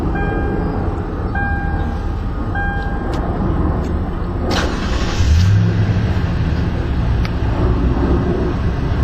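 A 2011 Toyota Tundra Limited engine idles steadily after start-up, a continuous low rumble with a few faint clicks and a brief thump partway through, no voices.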